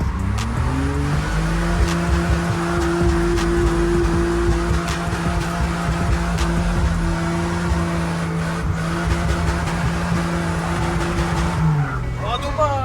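Drift car with a strained engine holding a steady loud high-revving drone for most of the run, tire squeal and skid noise layered over it, then the revs dropping away near the end while people talk over the top.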